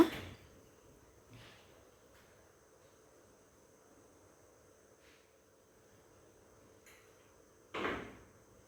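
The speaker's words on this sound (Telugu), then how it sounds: "ఫ్రంట్ డోర్ అవి కూడా ఓపెన్ చేసేస్తున్నాను" A home's front door opened in the quiet early morning, heard as a couple of soft, muffled knocks and thuds at the start and end, separated by near silence.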